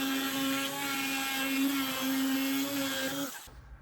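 A router fitted with a 1/4 inch round-over bit cuts along the edges of a chevron cutting board, giving a loud, steady high-pitched whine for over three seconds before it abruptly cuts off.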